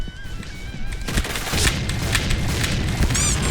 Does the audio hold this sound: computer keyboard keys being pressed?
no